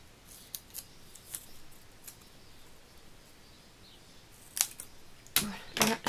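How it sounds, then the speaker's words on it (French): Scissors snip through card paper, with a few faint, quiet cuts at first and then louder, closer crisp snips near the end against a hushed room. "Voilà, là je coupe pour les jambes."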